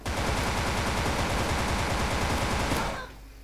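Continuous rapid gunfire in the online shooter game Wolfteam, loud and dense for about three seconds before it cuts off, with no talk over it.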